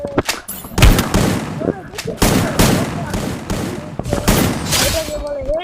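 Rapid gunshots ring out in a video game shooter, a series of sharp bursts at close range ending in a headshot, with someone talking excitedly over the shooting.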